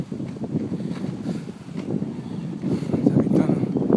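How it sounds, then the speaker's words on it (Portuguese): Wind gusts into the microphone beside the sea, a steady low rumbling roar that swells and thickens toward the end, with no clear voices over it. "Tá ventando"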